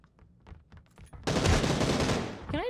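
A few soft taps and thuds in a multiplayer video game match give way to a sudden, sustained, loud burst of rapid automatic gunfire at close range that continues to the end.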